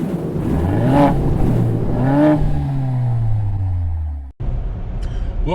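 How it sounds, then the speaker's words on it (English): Cadillac XT4 crossover engine while driving, a steady loud drone with rising and falling pitch sweeps as it accelerates and shifts, cut briefly by a sharp dropout near the end. "our first drive of the Cadillac XT4 crossover"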